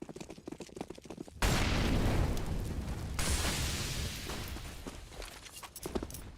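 A grenade detonates in a Counter-Strike esports match with a sudden loud blast that rolls into a long, fading roar over several seconds, preceded by light in-game clatter and footsteps.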